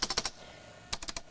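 Typing on the keyboard of a BSR 386SX-NB laptop: two quick bursts of about four crisp key clicks each, separated by a short pause, close and fairly soft.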